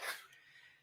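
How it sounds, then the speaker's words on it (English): A single short sneeze bursts out at the very start, faint and somewhat distant, fading into quiet room tone on a remote group call. "Bless you, whoever's sneezing."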